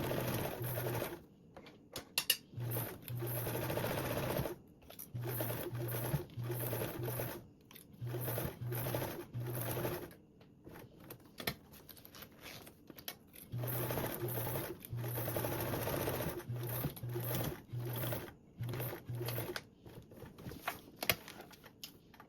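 A sewing machine stitches duffle binding with a 1/4 inch seam allowance, running in repeated bursts of rapid whirring separated by short pauses, close and clear with no voices.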